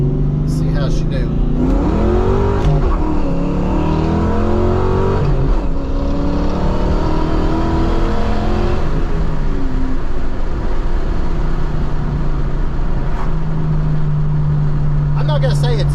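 A 1994-95 Ford Cobra, stock apart from headers, cat-back exhaust and an H-pipe, accelerates hard, its engine note climbing through repeated rising sweeps. The sound is steady and loud, with someone talking over it.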